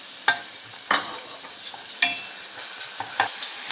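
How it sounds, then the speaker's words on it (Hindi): Onions fry in hot oil seasoned with asafoetida for a watermelon rind curry, a steady sizzle broken by several loud stirring scrapes of a spoon against the pan. "अब मैं इसमें प्याज डाल देती हूँ"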